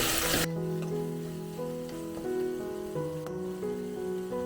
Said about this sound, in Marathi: आलं लसूण पेस्ट आणि मिरचीची पेस्ट आपण चांगली परतून घेतली